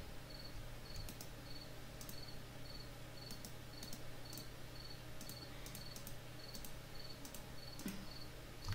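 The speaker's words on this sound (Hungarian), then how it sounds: "Tücskök ciripelnek." Crickets chirp at night in a survival video game: short high chirps repeat at a regular pace, softly, over a steady low ambient hum.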